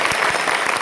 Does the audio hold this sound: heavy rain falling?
no